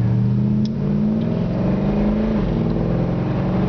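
A 1964 Ford Galaxie with a 4.11 rear end revs hard as it accelerates. The engine drone is loud, close and steady, then dips briefly as a gear shifts and climbs again.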